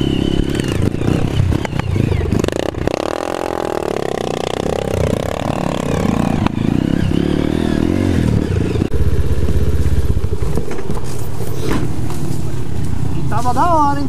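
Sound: motorcycle riding uphill on a trail

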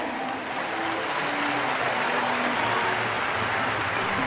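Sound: applause for music nominees at an awards ceremony

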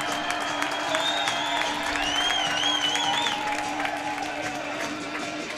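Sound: crowd applauding at hockey game

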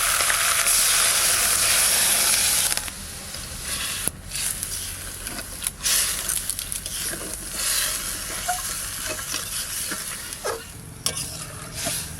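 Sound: water poured into a hot cooking pan, hissing

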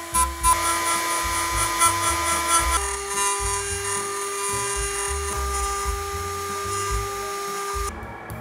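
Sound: grinding a taper on a home-built machine

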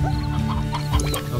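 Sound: chicken clucking in video game Slime Rancher

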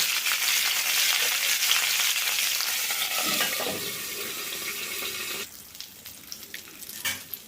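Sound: pointed gourd frying in oil in a covered pan

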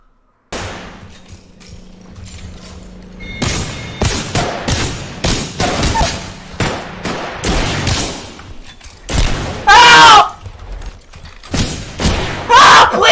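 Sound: gunfire in Apex Legends video game

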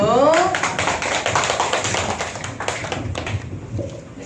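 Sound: applause

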